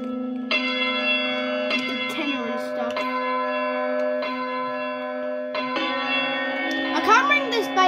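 Church bells of All Saints Maidstone ring on Boxing Day, with several loud, sustained strikes and long overlapping tones that follow one after another at close range.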